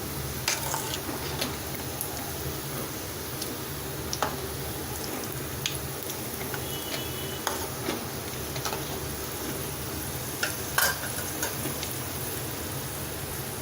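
Mutton kola balls frying in hot oil, a dense steady sizzle with scattered small pops and ticks as they are turned over, close and continuous with no voices.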